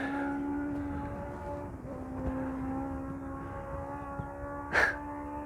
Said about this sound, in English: Just been listening to a motorbike absolutely caning it along there.